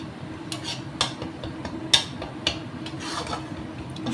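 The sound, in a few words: spice masala being fried and stirred in a pan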